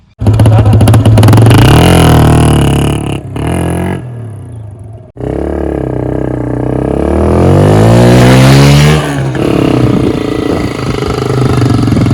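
A loud modified motorcycle engine revs hard and close, roaring up and down in bursts with a brief drop before rising again to a sustained growl.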